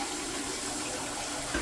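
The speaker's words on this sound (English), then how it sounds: "Flush the toilet. Flushes pretty well." A toilet flushes just after its wax ring has been replaced, a steady close rush of draining water that holds through the moment and ends with a slight gurgle, with no talking.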